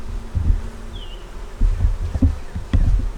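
Honey bees festooning on foundation make a low, close buzzing drone, with uneven pulses and swells as individual bees pass near.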